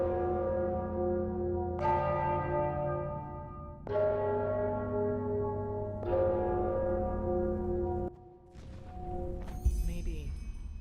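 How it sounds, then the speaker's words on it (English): Church bells toll in the fantasy video game Enderal, three big resonant strikes about two seconds apart, each ringing out with a long sustained hum before fading, followed by a lower rumble and a bright metallic shimmer near the end. "I'm sure the bells have something to do with the riddle."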